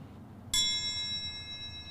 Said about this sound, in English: Bells tolling on repeat,